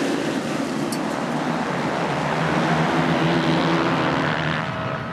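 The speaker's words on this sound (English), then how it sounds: "Revs are up." A dense, steady roar of several 450-class motocross bikes idling and revving together at the start gate, loud and close, holding without a break.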